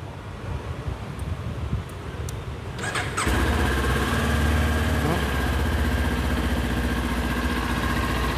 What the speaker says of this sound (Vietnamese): Máy nổ rất chắc.